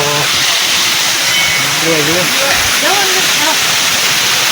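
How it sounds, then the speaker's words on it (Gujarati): Rainwater rushing down from higher ground at a village site near Ranol, a continuous loud roar of flowing water with voices talking over it. "હાલ પાણી બીજું એકદમ ઉપરથી આવવાનું ચાલુ છે"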